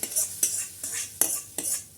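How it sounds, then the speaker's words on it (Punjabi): Tadka for dal tempering in a cleaned iron wok over a clay stove, stirred with about five rhythmic scraping strokes of a spoon against the metal over a faint sizzle, close and clear. "ਲੱਗ ਗਿਆ ਸਾਡਾ ਹੁਣ ਤੜਕਾ"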